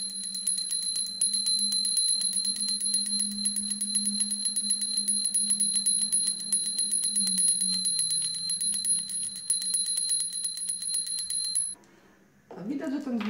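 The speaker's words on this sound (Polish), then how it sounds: "taki mały dzwoneczek, który też ma swoją częstotliwość i dźwięk, i jak ten dzwoneczek dzwoni" A small handheld bell rings continuously for about twelve seconds in a fast, steady shimmering trill, bright and close, then stops abruptly; a voice talks underneath during the ringing.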